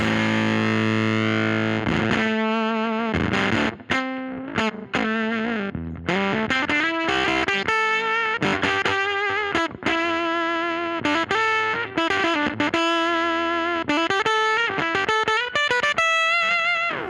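An electric guitar on its neck pickup through a Dr No Evil Motherfuzzer fuzz pedal plays a loud, thick, distorted lead line with sustained bends and quick runs, close up.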